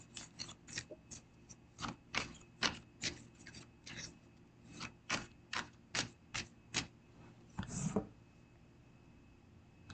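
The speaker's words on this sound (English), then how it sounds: "are you typing?" Typing on a keyboard: a run of sharp, uneven clicks and taps, fairly close, with brief pauses and a louder clack near the end, no voices.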